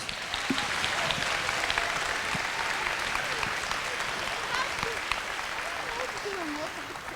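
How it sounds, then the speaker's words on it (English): Applause from school students at a recycling celebration, a dense, continuous roar of many hands clapping, loud and sustained, with some voices mixed in. "So give yourselves a big round of applause."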